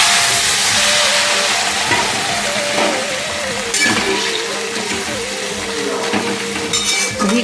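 Shukto, a Bengali vegetable stew, hits hot ghee with a loud, steady sizzle and hiss of steam, kept up throughout with faint clatter from the pot and a few brief bursts.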